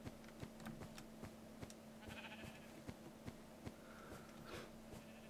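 Faint bleating of Minecraft sheep, two brief calls over a constant background hum and rhythmic clicking steps in the game.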